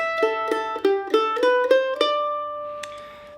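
A mandolin plays the opening measure of the Congress Reel, a quick run of plucked, ringing notes with a lively reel rhythm, the last note left to ring and fade, close and clear with no talking.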